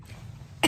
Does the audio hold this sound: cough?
yes